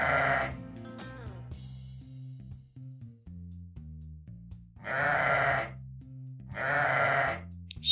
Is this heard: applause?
no